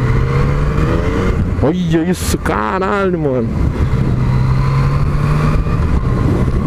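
A Yamaha MT-09 motorcycle ridden in the rain accelerates hard, its engine note climbing in sharp rising sweeps over a couple of seconds before settling into a steady drone, with the rider exclaiming over the noise.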